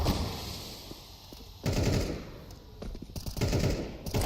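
Rapid bursts of automatic gunfire and heavy thumps crackle through a pro league shooter video game match, coming in clusters with quieter gaps between, moderately loud.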